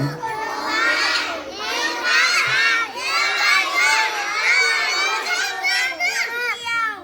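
Crowd of kindergarten children shouting together at a morning flag-pole assembly, loud and continuous with overlapping young voices rising and falling across the whole stretch.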